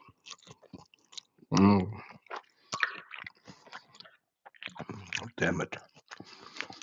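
Wet close-up chewing and slurping of ramen noodles with egg and onions, intermittent mouth sounds broken by brief murmured talk.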